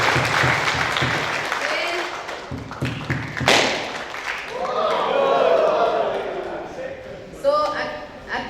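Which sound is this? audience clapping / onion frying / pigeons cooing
audience clapping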